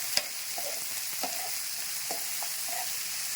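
Sponge gourd (turai) being stirred in a pan, a steady sizzle with a few soft scrapes and taps of the spoon, the first tap the sharpest, close and fairly quiet with no talk.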